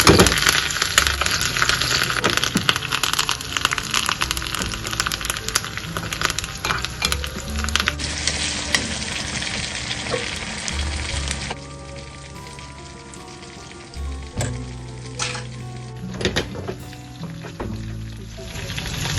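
Small onions and curry leaves fry in hot oil for a king fish varutharacha curry, a steady close sizzle with occasional stirring clatter and bursts of spattering throughout, and no voices.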